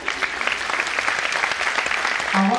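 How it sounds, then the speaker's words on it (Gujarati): A seminar audience at a chamber of commerce event applauds a Supreme Court speaker with loud, sustained clapping from many hands, dense and continuous throughout. "આ સુપ્રીમ કોર્ટના વક્તાને તો તાળીઓથી વધાવવા પડશે ને."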